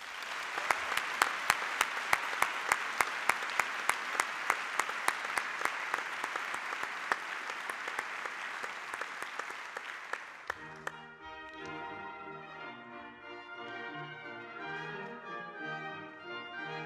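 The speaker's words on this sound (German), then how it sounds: "Einen tosenden Applaus bitte." Applause at a university graduation ceremony at MCI Management Center Innsbruck. The clapping is sustained with distinct sharp individual claps, and fades into music after about ten seconds.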